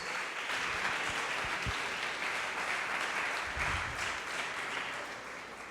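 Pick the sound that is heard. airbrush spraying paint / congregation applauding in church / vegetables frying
congregation applauding in church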